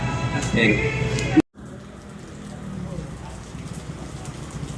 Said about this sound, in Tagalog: Pero ganun pa rin, wala pa rin tigil yung buhos ng ulan.